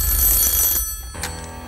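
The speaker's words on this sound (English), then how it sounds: "Ray, we have a phone call" A telephone bell rings loudly and close on a Deal or No Deal UK game show set, one burst of trilling ring that cuts off, then a brief fainter chime.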